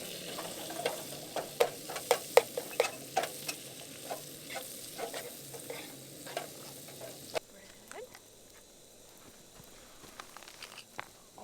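Food frying and sizzling in a pan over a camp stove on a day trip in a provincial park, with steady crackle punctuated by sharp stirring scrapes and clinks, fading quieter partway through.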